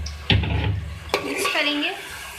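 Half a kilo of chicken is being mixed into softened tomatoes in a pan. A spoon clanks sharply against the metal and stirs with wet scraping, and a voice briefly talks over the stirring.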